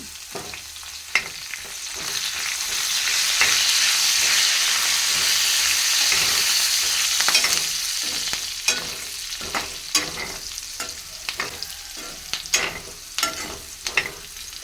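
Red chillies and curry leaves frying in hot oil in a pan: a loud, steady sizzle swells and then fades, broken later by sharp scraping clicks of stirring; nobody talks.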